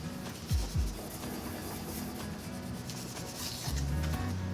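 A design is rubbed and burnished onto a plain piece of wood, giving a soft, continuous scraping and rubbing sound close by, fairly quiet, with a few low thumps at the start and near the end.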